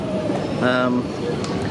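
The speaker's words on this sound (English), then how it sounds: "there's a train pulled in" London Underground train on the Bakerloo line pulling into a station, a rumbling rail roar with a brief squeal of wheels or brakes, heard up close on the platform amid crowd noise.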